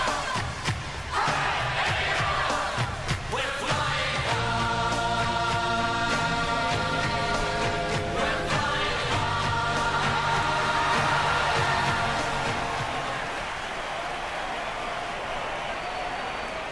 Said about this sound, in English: They're looking sharp and the crowd are appreciating it